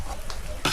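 A coconut dish stirred in a pan during Filipino home cooking, a brief close scrape and sizzle ending in a louder clatter of the spoon against the pan.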